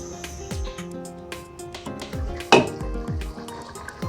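A pot of mutton rezala in a home kitchen gives off several metallic clanks and scrapes as a lid goes on. One sharp ring of metal stands out among softer knocks and light utensil sounds.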